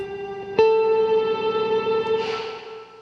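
Sustained chord passed through a Death By Audio Rooms reverb pedal, a sharp attack at the start followed by a steady, shimmering wash that thins and decays toward the end, with no voices.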